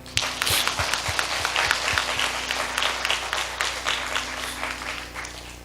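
A church congregation during a Sunday worship service claps. A few distinct, rhythmic claps open it, then a full, lively burst of applause fills the room and holds fairly loud until it tapers slightly.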